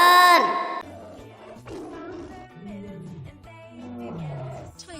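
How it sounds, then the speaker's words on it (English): An animated tiger gives a loud, drawn-out roar that opens with a bright, strained burst and fades under a bouncy children's alphabet song with sung vocals. "T for tiger."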